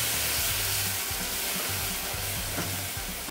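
Butter and cream stirred together in a pan for a caramel, a steady soft sizzle and bubbling hiss with faint scraping of the spoon, close and continuous with no talking.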